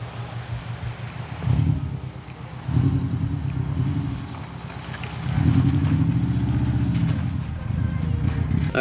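Subaru Forester driving off-road on a rough, bumpy gravel road, a steady low engine and tire rumble with wind buffeting, swelling louder in surges as it jolts along.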